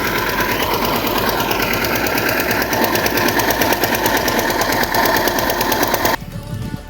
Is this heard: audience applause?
no